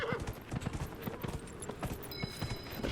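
Horse hooves in Dragon Age Inquisition, a quick rhythmic clip-clop of galloping on the ground, close and continuous against faint game ambience.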